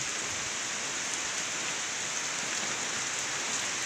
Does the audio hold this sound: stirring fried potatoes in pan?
no